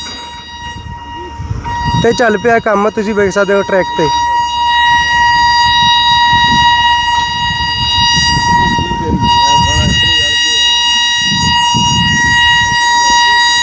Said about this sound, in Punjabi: ਹੌਰਨ ਮਾਰਦੀ ਪਹੁੰਚ ਰਹੀ ਹੈ ਟ੍ਰੇਨ ਹੌਰਨ ਮਾਰਦੀ ਆ ਰਹੀ ਆ